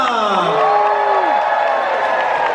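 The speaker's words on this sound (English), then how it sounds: "let's give him a big round of applause" An audience aboard the Royal Caribbean cruise ship Enchantment of the Seas cheers and whoops, with rising and falling shouts over a steady crowd roar and light clapping.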